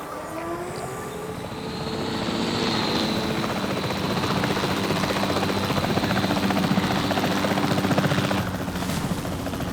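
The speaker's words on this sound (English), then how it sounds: "The priority needs to be tranquilizing it with the capture team chopper." The capture team helicopter in the video game Jurassic World Evolution 3 roars with a loud, steady rotor drone and engine whine that builds and holds close, with no talk over it.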